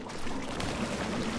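Water pours steadily inside an old underground test facility in the video game Portal 2, a continuous low splashing wash that fills the short moment at an even, moderate level with no voices.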